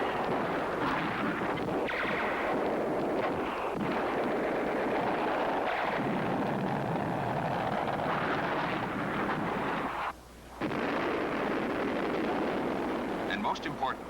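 The internally mounted cannon of a Lockheed F-104C Starfighter fires in long, loud, rough roaring bursts with heavy low rumble and a brief break partway through, like sustained gunfire.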